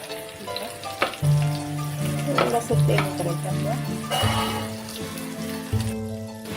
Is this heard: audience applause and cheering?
no